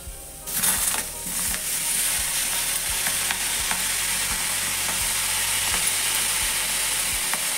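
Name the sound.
cluster beans (gavar) roasting in a pan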